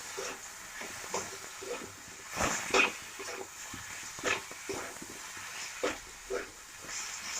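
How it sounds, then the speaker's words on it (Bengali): Masala spices fry in a pan in a home kitchen, a soft continuous hiss and sizzle with scattered crackles and scraping stirs, fairly quiet and close. "মশলাটা দিয়ে কষিয়ে নেবো আবার ভালো করে"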